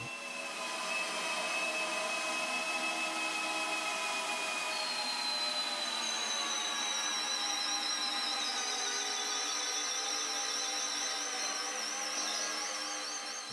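Canadian Tire Maximum cordless drill driving 18-inch screws through three stacked 8-inch wood blocks, a steady whining motor drone running continuously and close, rising slightly in pitch partway through, with no talk.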